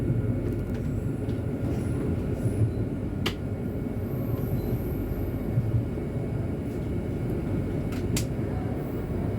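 Argo Merbabu train running through Jatinegara station, a steady loud rumble of wheels and carriage noise heard from onboard, with a few brief metallic clicks and no talk.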